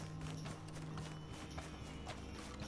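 Horse hooves clip-clop steadily in Red Dead Online, a quick rhythmic trot of faint close hoofbeats over a low droning game background with a steady hum.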